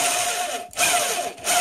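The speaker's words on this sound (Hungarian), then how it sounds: "egy kicsit fúrok vele, kiemelem" A power drill bores through a 3D-printed drill guide template, a loud steady whine that drops out briefly twice before resuming, close up and without speech.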